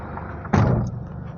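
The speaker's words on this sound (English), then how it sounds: "Let me close the door." A Toyota Hilux door swung shut from inside the cab, giving one solid thud about midway through, with a short muffled rumble after it over faint quiet background.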